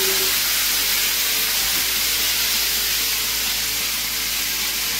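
Pumpkin curry with fish oil and a fish head cooks in a pan, giving a loud, continuous hiss and sizzle that holds steady throughout, with no talking over it.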